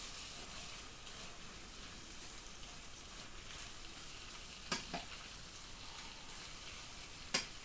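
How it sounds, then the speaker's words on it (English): Raw potatoes frying in oil in a pan until browned, giving a quiet, steady hiss of sizzling with a couple of faint clicks near the end. "Mind you, the potatoes did brown, but I'll just fry them in oil."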